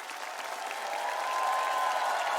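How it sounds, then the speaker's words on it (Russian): Studio audience applause at a talk show, a steady, even wash of many hands clapping that swells slightly and carries on without talk. "Наши овации всей сотни и всего зала вам."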